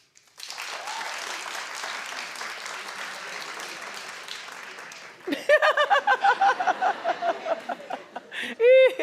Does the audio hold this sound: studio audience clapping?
yes